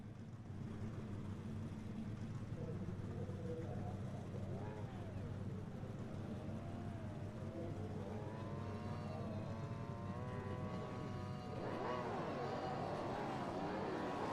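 Race cars rev in a sim racing game featuring Gen3 V8s, with a steady low engine drone and rising, falling rev tones layered on top, growing brighter and louder toward the end, with speech over it.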